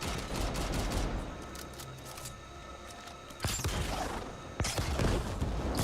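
Grenade launcher firing in the video game The Ascent: a dense crackle of gunfire, then two sharp loud blasts near the end, close and punchy.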